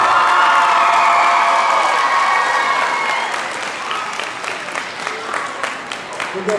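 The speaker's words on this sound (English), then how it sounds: "Give us applause, another round of applause, please." Middle school assembly audience breaks into loud applause with cheering and whoops, a dense roar of clapping that thins into scattered claps over several seconds.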